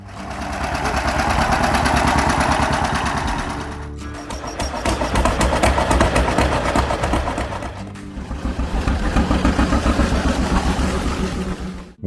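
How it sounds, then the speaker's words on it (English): A John Deere Model A tractor engine runs with a steady, loud mechanical chug, its rhythm shifting across three segments, with no voices. "John Deere Model A."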